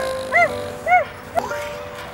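A one-eyed dog gives two short, close yips or barks about half a second apart, followed by a faint thump in a quiet room.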